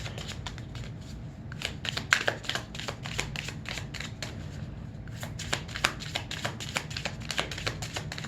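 Tarot cards riffle and slap in a steady shuffle, a run of quick crisp bursts close by with a short pause midway, with no talk over them.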